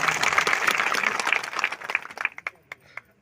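A crowd at a community conference in Harda district claps loudly in a dense burst that fades into a few scattered, distinct claps.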